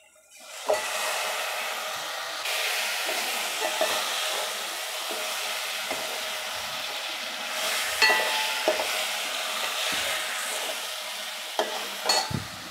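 Chicken pieces fry in a hot pan with turmeric and curry leaves, a loud continuous sizzle swelling and settling, broken by scraping stirs and clinks of a spoon against the pan.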